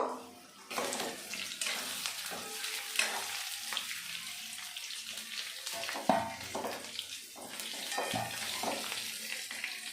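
Potatoes frying in hot oil for a spicy Bengali egg curry, a steady broadband sizzle with intermittent clatter and stirring, fairly close and moderately loud throughout, with no talking.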